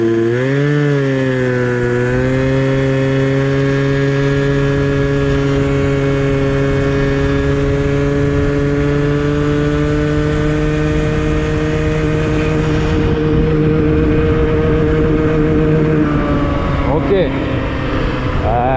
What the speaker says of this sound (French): il a pris les tours, il a accéléré, après il a reperdu un régime et après à fond on avait l'impression qu'il saturait